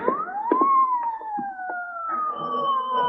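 Police car siren from an old-time radio crime drama, wailing loud and close with rising and falling sweeps, steady throughout with faint background noises beneath.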